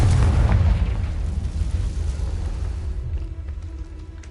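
A Confringo spell explosion in the video game Hogwarts Legacy erupts as a loud, deep boom, then fades into a rumbling, crackling tail that dies away over a few seconds.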